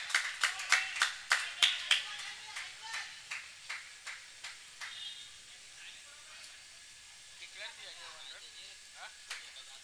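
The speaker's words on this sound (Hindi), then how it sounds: "अफलातून एफर्ट्स नरेन के लिए एक बार जोरदार तालियां" Scattered applause at an RCPL turf cricket championship match, following a fielder's diving catch attempt. Sharp, distinct claps sound in a quick, loud burst, then thin out into sparse, fading claps.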